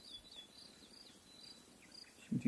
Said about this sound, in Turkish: Alanda ciddi çekirge var.